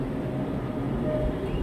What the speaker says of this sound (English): Look, that's a plane flying by.